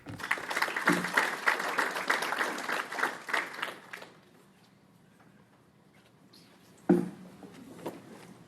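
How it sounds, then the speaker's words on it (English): An audience at a greenhouse strawberry farming talk claps in a dense burst of applause for about four seconds, then it fades to near silence before a single loud knock and some faint noise. "please help me give a big round of applause for the very brilliant Klaas Plas."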